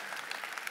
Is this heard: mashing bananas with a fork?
no